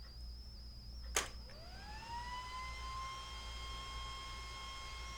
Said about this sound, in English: What you're hearing is the cooling fan on my Cyclops headlight that's running.